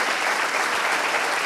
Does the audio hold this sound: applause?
yes